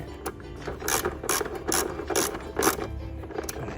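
Ratchet wrench tightening a 10 mm bolt during an air filter change on a BMW E46 with the M43 engine, giving several short bursts of rapid metallic clicking, close and fairly loud, with brief pauses between strokes.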